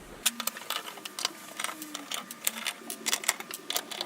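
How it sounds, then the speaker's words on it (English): Screws are driven into the top cover of a vintage Neve 33610 diode bridge mono compressor, making quick close ratcheting clicks and scrapes in short irregular bursts, with no talking. "I'm going to screw the top."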